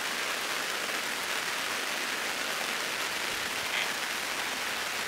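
Rain falls during a picnic at the Talaga Bodas lake in Garut, an unbroken, dense hiss of drops on the surroundings, close and constant for the whole stretch, with no one talking.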